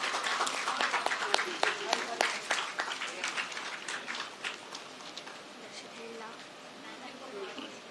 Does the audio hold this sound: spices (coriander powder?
no